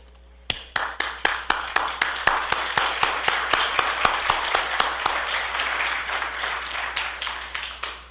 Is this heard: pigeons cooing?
no